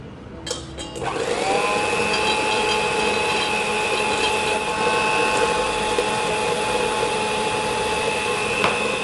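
An electric mixer whirring steadily as it beats eggs and sugar for a chocolate sponge cake, starting up with a brief rattle and then holding a constant loud motor drone.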